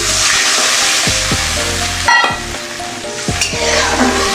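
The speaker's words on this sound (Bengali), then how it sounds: "এবার আমি জল দিয়ে দেবো পরিমাণ মতন" Water poured into sizzling spiced oil in a pan for a river fish curry, a loud hissing sizzle with clattering scrapes and sharp bursts as the liquid hits, no voices.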